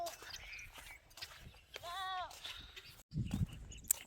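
A single wavering goat bleat sounds in the middle, surrounded by faint outdoor rustling and brief thuds, on a river char near Jamalpur.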